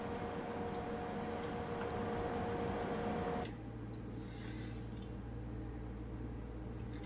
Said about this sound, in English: we're just hauling a bunch of containers